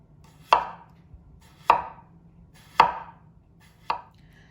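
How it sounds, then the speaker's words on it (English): A knife slices through small potatoes into very thin slices on a cutting board, four crisp, evenly spaced cuts about a second apart, close and clear over a quiet background. "we're just going to slice them into very thin slices"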